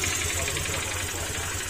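A Honda Click150 scooter engine idles with a steady low rhythmic knocking, loudest after a cold start, running continuously close by.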